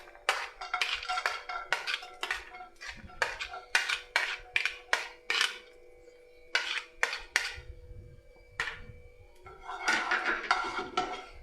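Pots, pans and utensils clatter and clink in a busy kitchen during a live cooking show, sharp metallic knocks coming in quick irregular bursts with short pauses, close and fairly loud, with no voices.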